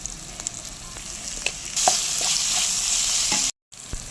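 Pepper chicken with capsicum pieces and salt sizzles steadily in a pan, loud and close, with stirring scrapes and a brief silent gap near the end.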